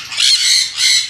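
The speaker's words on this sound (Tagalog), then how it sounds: "Yan yung mga bagong pisa natin." Newly hatched bird chicks squawking loudly and close up, two harsh, raspy begging calls in quick succession.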